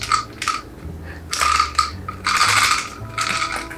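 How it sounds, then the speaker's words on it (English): Dry kibble rattles and clatters inside a plastic bottle in several short bursts of shaking, close and fairly loud. "grab some kibble and put it into the bottle so that it makes a rattling noise"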